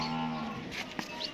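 A Nili-Ravi buffalo gives a single close, deep moo that trails off, followed by faint farmyard noises.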